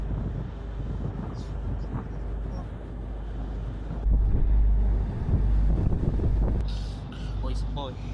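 Wind buffets a boat on a river with continuous blustery rumbling and microphone gusts, strongest in the middle, while people talk and boat engine noise runs underneath.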